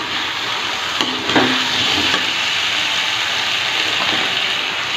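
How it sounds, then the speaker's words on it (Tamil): Jackfruit mutton gravy being stirred in a pan, a steady close sizzle and bubbling with a few faint scrapes of the spoon, continuous throughout with no talk. "இப்போது இதை நல்லா பிறக்கி விட்டுக்கலாம்"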